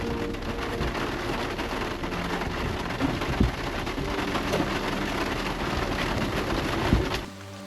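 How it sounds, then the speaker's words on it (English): Heavy rain pours down steadily on a tent in a dense, hissing wash, with a few louder drops or thuds breaking through before it cuts off. "Is it ever raining?"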